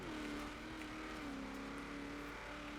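A naturally aspirated 6.2 litre LS V8 swapped into a classic Ford in Forza Horizon 4 holds a steady, loud drone, the engine note sliding slightly in pitch as it pulls continuously with no break.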